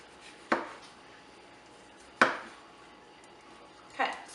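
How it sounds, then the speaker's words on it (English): Three separate knife cuts slicing rind off a grapefruit on a board, each a crisp scraping thunk spaced well apart, fairly close and quiet in an otherwise still room. "cut off all the rind that I can easily get to from this side"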